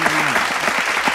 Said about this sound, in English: Let's get another clap out.